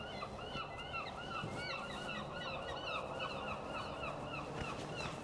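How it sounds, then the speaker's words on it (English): Repeated seagull calls cry out over a steady outdoor background in the seaside town of Whitby, several birds calling on and off throughout. "You can hear the seagulls, can't you?"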